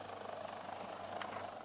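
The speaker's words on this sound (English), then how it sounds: "The chopper that brought President Muhammadu Buhari from Kaduna, where he first arrived from London, touched down at the presidential heliport" A helicopter touching down at a presidential heliport gives a steady, distant rotor drone with a constant hum, alone and without talk.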